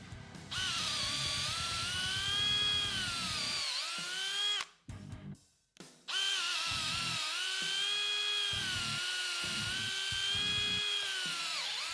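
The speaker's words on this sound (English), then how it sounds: "We're going to use the drill attachment first." A cordless drill with an installation-drill attachment whines steadily at high speed, the motor pitch dipping and rising as it bores down into a treated 6x6 timber through a knot, briefly stopping midway before resuming.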